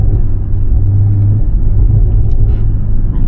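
A car inside crawls slowly through traffic with repeated braking, a steady low engine rumble and road noise running close and continuous.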